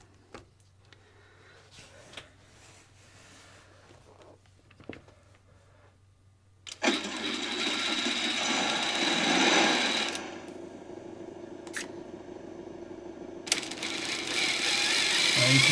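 A Power HD servo shifting a TRX-4 two-speed transmission, a quiet ticking stretch then a loud sustained mechanical whirring buzz with brief gaps and a few sharp clicks, near and alone.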